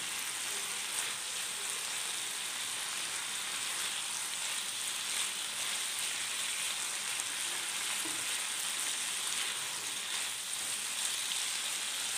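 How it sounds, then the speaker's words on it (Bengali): Paneer vegetable fingers frying in an uncovered pan, a soft steady crackling sizzle that runs evenly without pause, fairly faint and close, with no voices. "আমি ঢাকনা ছাড়া এটাকে একটু ফ্রাই করছি"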